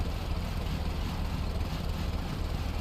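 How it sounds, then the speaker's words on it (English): A steady, low jeep engine rumble in the video game Stormworks drones continuously with a constant hum and no break, sounding like a Jeep CJ3B engine idling or straining in second gear. "Hear the engine trying."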